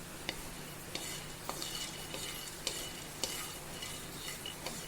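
Whole spices, star anise, cinnamon and cloves, fry in oil in a pan with a soft, steady sizzle, while a utensil scrapes the metal in regular clicks.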